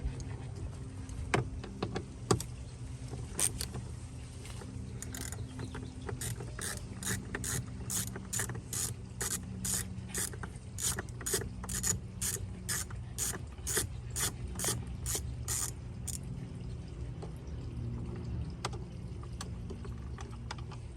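Ratcheting clicks in steady bursts as Phillips and T30 Torx screws are backed out of a door handle panel during lock actuator diagnosis, close and fairly faint, without talk.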